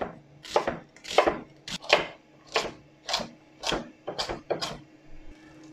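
Knife chopping an onion on a cutting board, about nine distinct crisp strokes in an uneven steady rhythm, close and clear with no talk.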